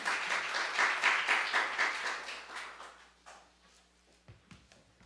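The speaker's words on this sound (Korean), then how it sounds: "큰 박수 부탁드리겠습니다." An audience at a parliamentary policy forum on radiation contamination near nuclear power plants claps for a lawmaker coming up to speak, a brief wave of applause that fades out within a few seconds, leaving a quiet room with a few thumps.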